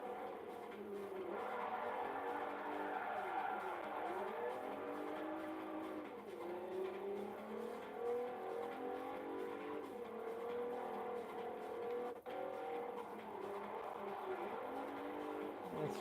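A car drifts in the racing game Forza 4, tires squealing in long wavering howls over a steady engine drone, sustained and fairly loud throughout with the pitch sweeping up and down.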